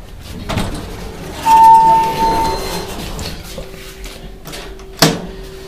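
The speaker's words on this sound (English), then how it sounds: "There's the door open." A Montgomery hydraulic elevator door slides open in a Sears store at a mall, giving a steady mechanical whir and a tonal hum, followed by a sharp clunk as it stops.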